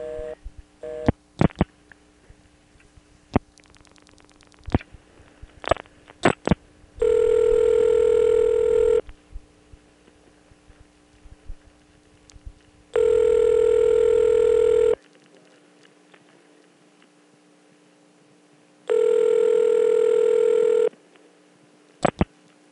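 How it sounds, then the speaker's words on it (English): A long-distance trunk call's ringback: three long, loud steady ring bursts separated by gaps, with scattered clicks and switching noise before them and a quiet line in between. "it started to ring one thing, and then in the middle of the ring, it kind of switched to a louder ring, like this"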